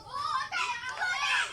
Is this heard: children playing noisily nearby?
yes